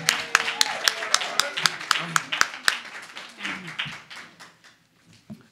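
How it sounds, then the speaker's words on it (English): Applause rises from the crowd at a live professional boxing event in New York, a dense run of sharp claps with a few louder strikes, fading out toward the end, with voices mixed into the noise. "let's have a round of applause for the champ of Brooklyn"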